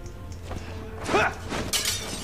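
Glass breaks in the video game Resident Evil 6: a bright, crackling shatter burst followed a moment later by a second sharp crash of falling shards, over a low background hum of game ambience.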